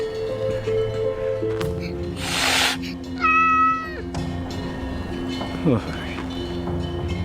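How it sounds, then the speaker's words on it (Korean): A hungry cat meows insistently at a Buddhist temple, blocking King Sejo's path, with a few clear meows rising over background music and narration. "세조가 걸음을 떼지 못하게 버티고 선 고양이."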